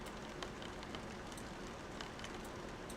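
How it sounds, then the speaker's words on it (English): Rain falling on a sailboat, a steady soft hiss of drops with scattered crisp taps on the deck and hull, faint and continuous. "The rain is, can you guys hear the rain?"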